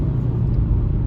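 A 2021 Toyota Supra 2.0 at a car show with the pedal floored, while failing to accelerate properly: a loud, close, steady low engine rumble with no rising rev and no voices.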